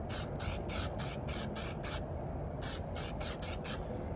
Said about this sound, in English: I'm just gonna spray a little bit in the middle to where it doesn't wiggle around while he's sitting.